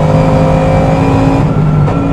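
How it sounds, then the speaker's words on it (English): Onboard a Team Parker Racing Bentley race car at high speed, the engine roars loud and steady with harmonic drone, then dips briefly as the driver dabs the brakes and knocks it down a gear. "Little dab of the brakes, knock it down a gear."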